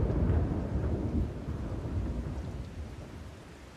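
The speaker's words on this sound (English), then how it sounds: "Uh-oh, it's a storm." A thunderstorm in a video game: a deep, rolling rumble of thunder over steady heavy rain, loud at first and slowly fading as it trails off, with no voices.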